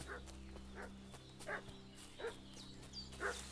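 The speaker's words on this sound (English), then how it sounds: "What's that dog making such a fuss about?" Dog barking in the video game Kingdom Come: Deliverance 2, several short barks at a steady pace over a low droning game soundscape, moderately loud and fairly close.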